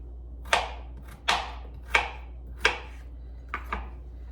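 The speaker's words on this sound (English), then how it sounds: "So I'm going to go ahead and get those cut up just into small chunks." Four peeled potatoes are chopped into small chunks with a knife on a cutting board, giving six crisp, close knocks spaced about half a second to a second apart, quiet and alone over a faint low hum.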